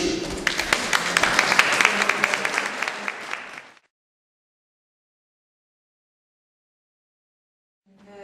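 Conference audience in Põltsamaa breaks into dense, steady applause for nearly four seconds, then it cuts to silence before a brief voice at the very end.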